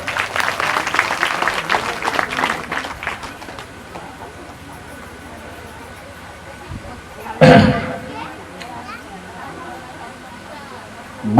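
An audience at a Bhagavat katha claps in a dense, loud burst for about three seconds, then drops to a quiet murmuring hall with a brief loud thump later on.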